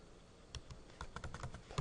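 A computer keyboard tapped to enter a command, a short quick run of close, soft key clicks with a slightly heavier keystroke at the end.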